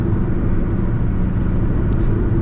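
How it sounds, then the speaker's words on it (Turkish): Loud, constant low rumble of a 2023 Fiat Egea 1.4 Fire 95 HP engine at about 3000 rpm and road noise from inside the moving car, steady with no voices. "Ve yol sesi gittikçe artıyor. E tabi motorun sesi de çokça geliyor dostlar."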